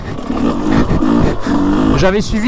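A GasGas 125 motorcycle engine revs and drones steadily up close on an easy trail ride, rising in pitch near the end, with a voice talking over it.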